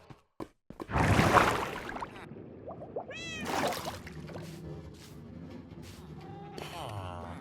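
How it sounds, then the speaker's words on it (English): Several cat meows from a Minecraft village, one strong close meow early on, then shorter mewing calls and a rising squeaky meow later, over a soft ambient game background; no talking. "We have a couple of cats here as well"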